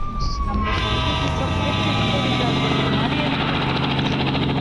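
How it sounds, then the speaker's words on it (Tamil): A stolen helicopter in a video game whirs with a steady, loud rotor and engine drone, and a siren tone runs beneath it while a voice speaks briefly over the noise. "கொஞ்ச நேரம் ஹெலிகாப்டர் எடுத்துட்டு வெளியே போவோம்."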